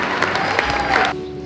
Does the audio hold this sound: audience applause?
yes